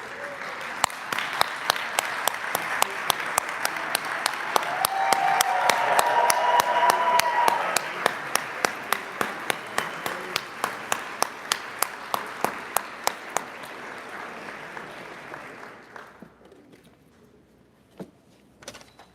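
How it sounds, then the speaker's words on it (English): An audience at a white coat ceremony claps steadily, with a dense wash of applause and regular loud close claps that thin out and fade toward the end, leaving a few stray claps. "let's give them a round of applause for what they've accomplished."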